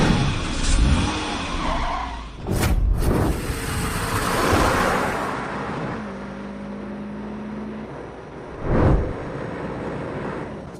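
A car drifting, its engine revving loudly in bursts with sharp roaring surges and a sustained tone, up close and without talk.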